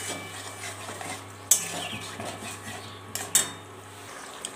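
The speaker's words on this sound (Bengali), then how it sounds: "এটাকে 2 মিনিট আমি একটু ভালো করে কষে নেব।" Marinated pomfret fish stir-fried with spices in a pan in a village-style kitchen, with close metal spatula scrapes and sharp clanks against the pan over a low, steady sizzle.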